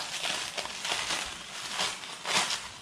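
Crinkly plastic press-and-seal wrap being pulled and torn off a Velveeta cheese package, a steady run of loud crackling and crumpling bursts, close up, with no talking.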